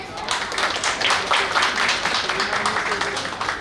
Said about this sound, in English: Let's give a big round of applause for Tanvi Shah.